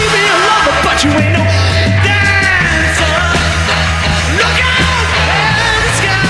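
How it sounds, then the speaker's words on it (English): A song plays loud and dense, screamed vocals riding over heavy distorted guitar riffs and pounding drums without a break. "It's literally got screaming vocals that you find in metal, heavy riffs."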